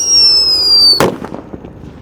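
A firecracker set in a hole in the ground gives a steady high whistling tone that cuts off in a single sharp, loud bang, followed by fading crackles and scattered pops.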